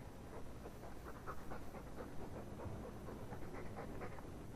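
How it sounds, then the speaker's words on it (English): A dog pants in quick, rhythmic breaths in the video game Dragon Age 2, fairly quiet against faint background noise. "All that noisy dog breath, day in, day out."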